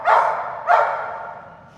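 A dog gives two sharp, loud barks about half a second apart, close by, and each one trails off with a short ring in a quiet room.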